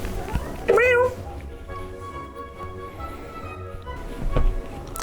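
A single clear cat meow rings out near the start, close and fairly loud, followed by quieter background sounds and a faint second call later on.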